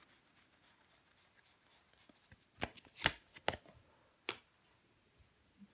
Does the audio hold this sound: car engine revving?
no